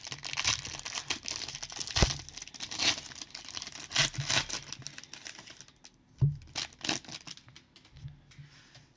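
Sealed 2021 Impeccable football trading card packaging crinkles and rustles as it is handled, close and fairly quiet, in irregular bursts of crackling plastic with short pauses between them.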